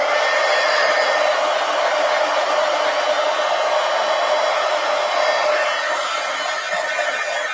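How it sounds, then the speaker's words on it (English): A heat gun blows hot air in a steady, loud broadband whoosh for several seconds, used at a table for a watercolor doodling art project, with no talk over it. "So heat gun."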